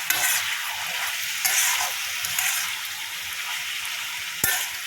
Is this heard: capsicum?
yes